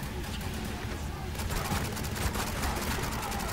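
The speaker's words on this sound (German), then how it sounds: "Mann, der schießt auf mich." Gunfire in the Spec Ops: The Line video game, bursts of rapid shots growing denser in the second half, mixed with game ambience and people talking over it.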